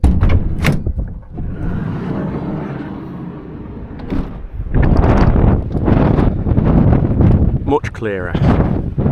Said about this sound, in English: It's been very windy, and it still sounds very windy